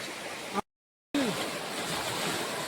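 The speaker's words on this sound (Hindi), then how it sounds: "और देखिए कितना तेज बहाव है" Fast, swollen river current rushing in a forest, a broad steady roar of water heard up close with a brief total dropout partway through.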